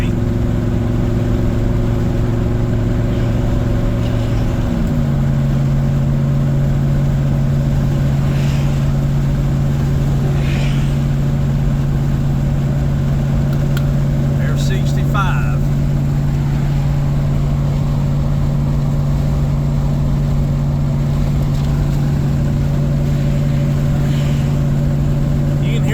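A car cruising at 60 mph makes a loud, steady drone of wind rush and tire roar, with a constant low engine hum that shifts pitch once early on, and faint speech under the noise.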